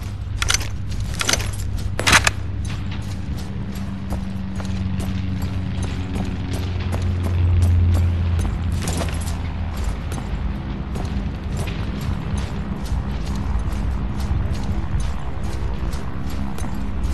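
Gun being reloaded after an empty magazine in World War Heroes, metallic clicks and clacks of magazine handling, sharpest near the start, over a low rumbling background.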